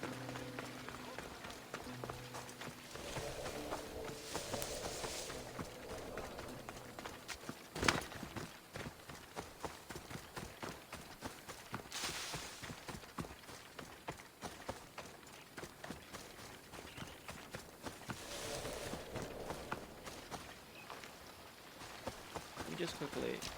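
Horse hooves run at a steady gallop through an Assassin's Creed Odyssey game world, a continuous quick pounding under occasional bursts of game ambience and a spoken voice.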